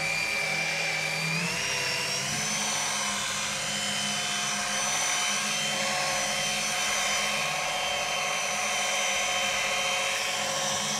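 Car polishing machine running with a new lambswool pad on a car's paint, a continuous close whirring drone that holds steady with slight pitch shifts throughout.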